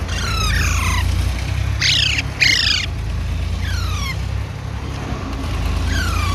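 Loud, harsh Alexandrine parakeet squawks repeat in bursts over a constant low hum, some calls close and overlapping, others spaced apart.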